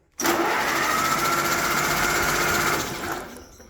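A $300 Tough Tractor engine cranks on its starter with the ignition off and no spark, a steady mechanical whirring churn that holds for about two and a half seconds, then slows and fades out.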